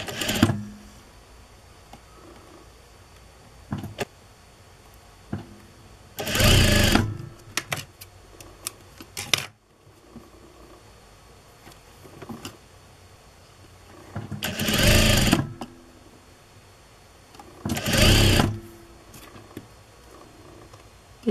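A sewing machine stitching a handkerchief hem on a blouse runs in three short, loud whirring bursts, separated by quiet pauses filled with faint handling clicks and fabric rustle.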